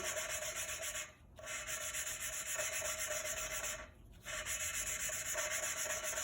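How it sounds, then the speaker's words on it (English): Steady abrasive rasping of grinding during a valve replacement on a 2008 Dodge Chrysler 2.7 V6 engine runs continuously with two brief pauses before resuming, fairly faint and even in texture, smoothing as the grinding ends. "It's the grinding going on, then the grinding stops and it gets smooth."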